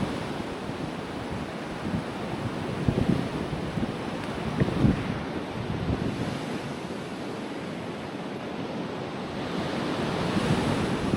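Ocean waves and surf on an Outer Banks, North Carolina beach, a steady broad roar of breaking water with wind buffeting the microphone, continuous and loud with no voices.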